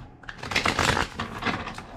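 Tarot cards being shuffled by hand: a dense, continuous run of papery riffling and flicking for about two seconds, close and fairly loud, with no voice over it.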